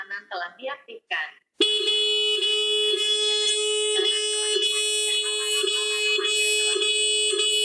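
A smart WiFi motorcycle security alarm blares loud and close: a piercing, steady electronic tone with a pulsing beat. Brief talk comes just before it starts.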